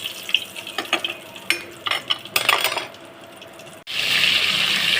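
Turmeric and asafoetida sizzling in hot oil in a pan for Gujarati moong shaak, close clatter of a spoon against the pan over crackling frying, then a sudden loud hiss of sizzle at the end.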